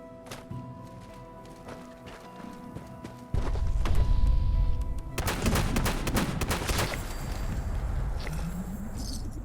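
Gamma gun fire in the video game Fallout 76 erupts as a sudden loud burst, then a dense, sustained crackling barrage that continues steadily to the end.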